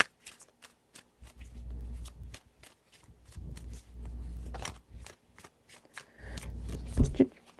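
Tarot cards are shuffled in rapid riffling bursts, several times in a row, close up, with soft low rustling between shuffles.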